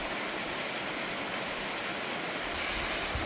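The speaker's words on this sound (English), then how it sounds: "This is such a pretty waterfall, and you can see all the way up there." A waterfall on a steep mountain brook roars as a loud, unbroken broadband rush with no voices over it.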